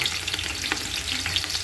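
Onions frying in a pan for Mughal-style paye, a loud, close, continuous sizzle with crackles and stirring scrapes and a low kitchen exhaust hum underneath.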